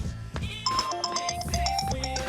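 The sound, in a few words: phone ringtone, incoming call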